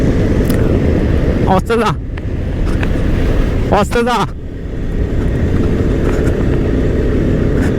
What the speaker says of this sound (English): आज first time मेरा भाई बाइक चला रहा है।